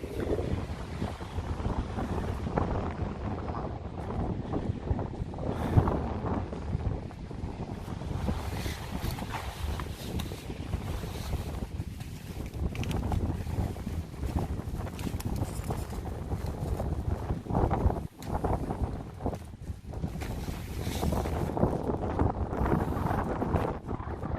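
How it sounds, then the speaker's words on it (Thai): Strong wind buffets the microphone on a trip from Bangkok toward Helsinki, Finland, making a continuous loud rumble with gusty surges that rise and fall, and no voices. "ลมแรง"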